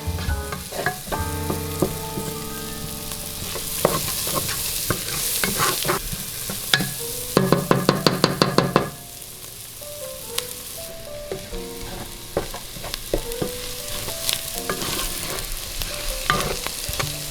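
Chopped onions and bacon fry together in a pan, crackling and sizzling steadily up close, with frequent stirring scrapes and a quick burst of rapid clicking taps midway.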